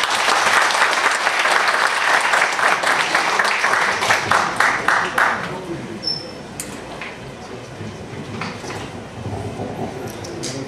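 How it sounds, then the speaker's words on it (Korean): Lecture audience applauding in a hall, loud sustained clapping for about five seconds that then thins into scattered claps and fades into room murmur. "다시 한번 큰 박수 부탁드리겠습니다"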